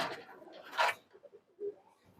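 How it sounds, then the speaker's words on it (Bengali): A male Sadchilan pigeon gives soft, low cooing notes at close range, a few short muffled hums spaced apart amid faint handling rustle. "এই যে একটা সাফচিলান নর কবুতর মাশাআল্লাহ এই কবুতরটাও কিন্তু খুব সুন্দর"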